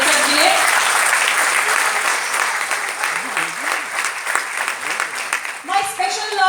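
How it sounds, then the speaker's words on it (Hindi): Loud, sustained applause from an audience at a celebration event, dense clapping filling the whole stretch with a brief voice near the end. "मैं जोरदार ताली एक्सपेक्ट करती हूँ रेखा मैम के लिए।"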